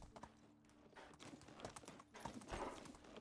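Horse hooves clip-clop in Medieval Dynasty, an irregular run of soft, fairly quiet hoofbeats on the ground from a nervous horse, with no talking.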